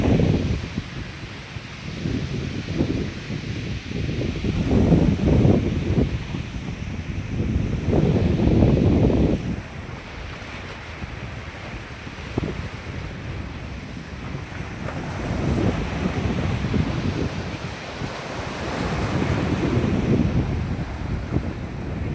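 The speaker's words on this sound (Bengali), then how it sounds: "দেখেন সমুদ্রের কত উত্তাল ঢেউ।" Rough waves of the Arabian Sea crash and surge against the shore in loud, rolling swells that rise and ebb every few seconds, under constant wind buffeting the microphone, with no talking.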